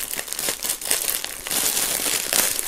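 Plastic shrink-wrap foil crinkles and tears loudly and steadily as it is peeled off a music box set and a sealed album during an unboxing, close up with no talking.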